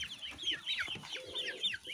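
Chicks and hens on a small farm plot, a busy patter of chirps and short clucks running throughout, fairly close and alone with no talk.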